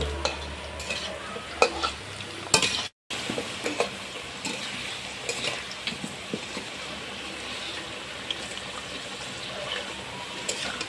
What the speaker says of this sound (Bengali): তেলটা গরম হয়ে গেছে, এখন আমি আলুটা ভেজে নেব।